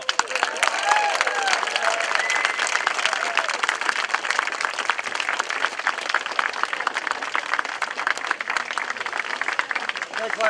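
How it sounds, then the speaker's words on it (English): A crowd applauds Justin Trudeau at an event, with continuous, even clapping from many hands holding steady throughout, and voices calling out underneath. "So if I can get a round of applause for Justin Trudeau."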